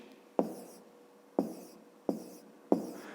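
Four sharp pen or chalk strokes at a steady pace while the numbers of a fifth-grade math exercise are written out, each stroke a quick tap fading off, with no talk.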